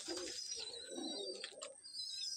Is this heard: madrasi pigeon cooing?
yes